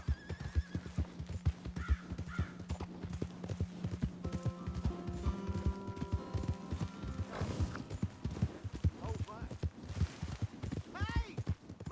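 Horse in Red Dead Redemption 2 with steady clip-clopping hooves throughout and several whinnies and neighs, close and clear, while voices talk and crows caw in the background.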